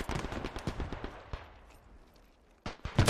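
Machine-gun fire in the first-person war game Beyond the Wire: dense bursts of rapid shots dominate the first second and return loudly at the end, with quieter scattered reports in between.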